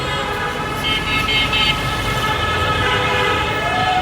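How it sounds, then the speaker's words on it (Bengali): Ambulances crowd the road in front of the Secretariat during an ambulance strike. Sustained tonal siren and horn sounds ring over a dense, constant wash of loud, nearby traffic noise. "দেখেন এগুলো কিন্তু সব অ্যাম্বুলেন্স।"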